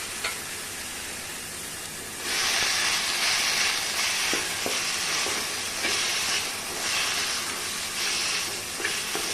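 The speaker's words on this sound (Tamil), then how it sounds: "இந்த மாதிரி நல்லா வதக்கிக்கலாம்" Mutton caul fat sautés in a pan with a loud, steady sizzle that swells as the fat is stirred, broken by a few faint clicks of a utensil.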